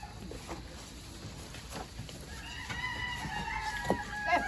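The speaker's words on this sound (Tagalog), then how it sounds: "May mga manok din dito, sir." Roosters crow repeatedly on a farm, some near and some farther off, mixed with scattered clucking from chickens over a low background hiss.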